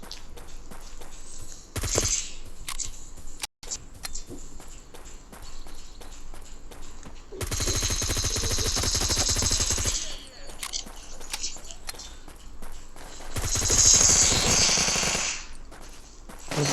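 M4A1 assault rifle fire in the shooter game Bullet Force, loud rapid automatic bursts around two longer stretches, with quieter in-game footsteps and scattered shots between them.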